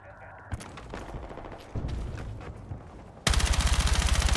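Sustained rifle fire in Battlefield 6, a dense rattling burst that turns to loud, rapid automatic shots toward the end, with a voice speaking under the earlier part.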